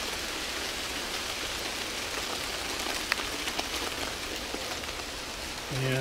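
Rain falls steadily on the rain cover of a small video camera rig, a dense, even patter close up with a few sharper drops tapping on the cover and no speech.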